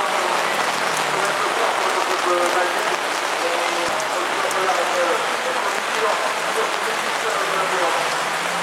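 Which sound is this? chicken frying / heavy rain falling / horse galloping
heavy rain falling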